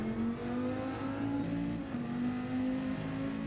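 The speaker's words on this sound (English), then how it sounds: "Heading into the pits, get a tyre change for the race." A Gran Turismo 7 race car engine hums steadily at sustained revs with a slight pitch dip midway, heading into the pits, loud and close with no voices over it.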